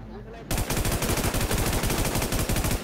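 Rapid automatic gunfire in the video game WarZ bursts in after a short quiet moment, then rattles on as a dense, loud, evenly spaced stream of shots for the rest of the stretch.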